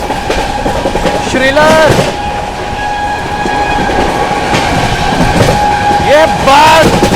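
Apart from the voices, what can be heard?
Bihar Sampark Kranti Express train running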